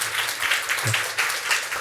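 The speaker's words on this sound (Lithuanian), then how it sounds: "Aplodismentai." Audience applause in a hall, a steady wash of many hands clapping that fills the short clip at moderate loudness.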